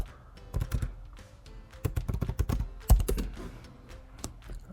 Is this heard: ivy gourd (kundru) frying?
no